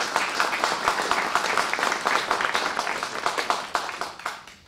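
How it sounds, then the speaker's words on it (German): Conference audience at a climate conference in Annaberg applauding, dense steady clapping from many hands that holds for several seconds and then fades out. "das ist auch ein Applaus."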